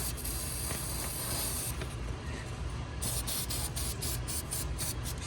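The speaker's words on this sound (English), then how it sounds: "Spray it on the bottom" Aerosol spray hisses onto the bottom of 6.0 diesel injectors in steady, close bursts, with a long continuous blast followed by several quicker pulses against a constant background noise floor.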